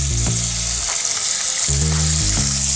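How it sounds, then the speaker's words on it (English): Chopped kidneys fry in olive oil in a pan, a steady close sizzle with broadband hiss running throughout, over faint background music. "now I'm just gonna fry my kidneys that have been chopped in small pieces"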